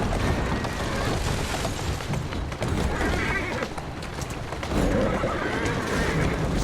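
A horse pulling a carriage through Victorian London streets in Assassin's Creed Syndicate whinnies amid dense, loud street bustle and rumbling noise, the neigh mixed into a continuous clattering background.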